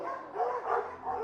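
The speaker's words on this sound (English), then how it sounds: "These dogs have been trained to act vicious on command." Dogs trained to act vicious on command bark and yip in a quick, loud burst of several close, harsh barks with no talking.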